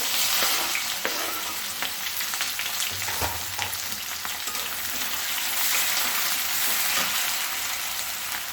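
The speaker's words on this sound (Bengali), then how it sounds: "এখন এর মধ্যে জিরে দিয়ে দেবো পেঁয়াজগুলো ভেজে নেব" Cumin and onions fry in hot oil in a kadai, giving a continuous, dense crackling sizzle with occasional stirring clicks throughout, close and fairly loud.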